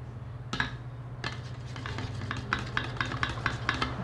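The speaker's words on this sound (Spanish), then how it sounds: "Seguimos revolviendo." Homemade hair gel mixture with honey being stirred in a bowl, a series of close scraping and clinking strokes in a steady rhythm over a low constant hum.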